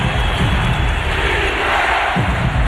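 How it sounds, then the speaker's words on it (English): A basketball arena crowd cheers loudly and continuously at a 2008 NBA playoff game between the Mavericks and Hornets, a dense roar of voices filling the space without a break. "Terry can't silence the crowd."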